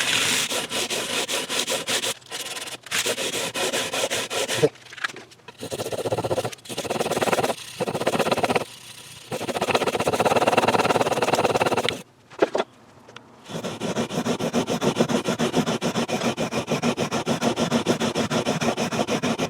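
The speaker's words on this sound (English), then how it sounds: "let's sort of do a little bit of level and crown on these frets" A guitar's frets are leveled and crowned by hand, with long bursts of rough rasping abrasion stroking back and forth, broken by short pauses, close and steady.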